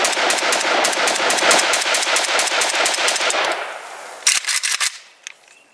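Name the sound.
Romanian AES-10B RPK rifle firing a magazine at the range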